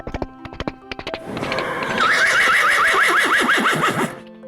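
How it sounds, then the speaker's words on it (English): A horse gives a loud, clear neigh with a descending whinny lasting about two seconds, preceded by a brisk run of hoof clip-clops on a hard surface; no voices. "H for horse."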